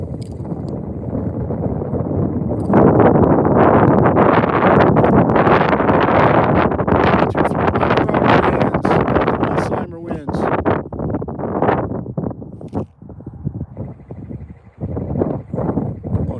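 Strong, continuous wind buffeting a microphone while ice fishing for trout in southeastern Minnesota, loud and close with gusty rumble, while someone talks over it.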